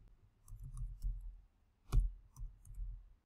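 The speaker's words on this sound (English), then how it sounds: "So first we'll type in um, docs.new." Typing on a computer keyboard, a few faint, soft key clicks in short bursts with one sharper tap near the middle, quiet and close with no talking.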